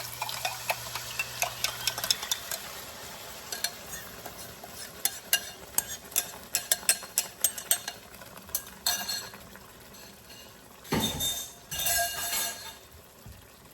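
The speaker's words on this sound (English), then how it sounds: "I'm going to go ahead and add our liquid" Liquid poured into a pan of homemade red butter chicken sauce, with scattered utensil clinks and stirring scrapes before a short, louder splashing rush near the end.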